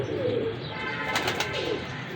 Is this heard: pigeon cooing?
yes